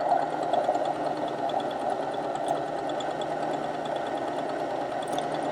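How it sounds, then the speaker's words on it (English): A Husqvarna Viking Emerald 116 sewing machine stitches across stretchy fabric with a steady, close mechanical drone and a fine rapid ticking, running evenly without pause. "you put it under the needle here, and the machine handles it beautifully"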